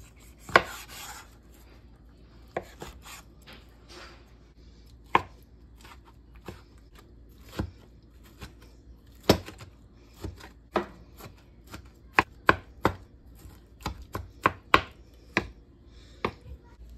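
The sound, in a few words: knife chopping vegetables on cutting board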